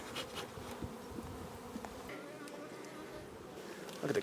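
Honeybees in an outdoor bee yard give off a continuous droning buzz, close and steady, with individual insects flying past and faint handling noises, and no talk.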